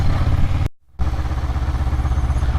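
A motorcycle engine pulses and throbs close by, cuts out briefly, then picks up again with a rhythmic chugging as the clutch is released and throttle applied to pull away.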